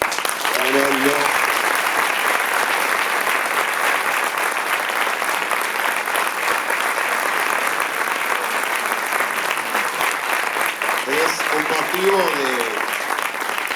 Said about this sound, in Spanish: por un aplauso colectivo a la resistencia del pueblo palestino